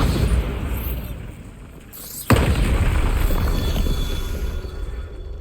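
Bombarda explosion spell cast in the video game Hogwarts Legacy: after a quieter ambient lull, one sudden loud boom bursts in, followed by a sustained rumbling, crackling tail.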